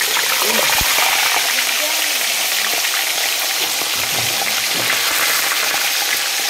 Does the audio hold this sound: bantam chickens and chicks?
no